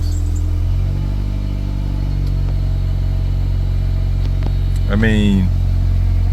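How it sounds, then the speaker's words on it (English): A 1999 Honda Accord engine idles steadily just after starting, a constant low drone that runs throughout, with someone talking briefly over it near the end. "let's give her a start. Fires right up."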